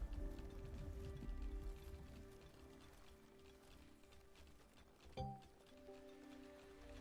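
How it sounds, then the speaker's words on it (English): Rain falling in the video game The Wandering Village, a faint, soft patter of drops with light rustling and a brief thud partway through. "So rain falls upon Onbu and raises humidity"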